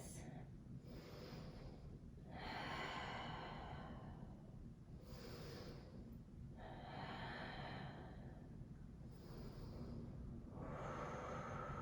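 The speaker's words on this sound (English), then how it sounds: "Deep breaths." Deep, slow yoga breathing with long airy inhales and exhales repeating in a steady rhythm, about four cycles, close to the microphone with a soft wind-like hiss and no talk.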